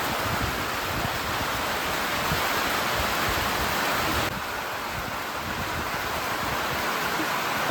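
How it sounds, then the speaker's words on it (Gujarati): Heavy rain pours down during a storm, a dense, continuous hiss of steady rainfall that stays loud and unbroken throughout, with a slight drop in level partway through. "ફૂલે ફૂલ વરસાદ આવે"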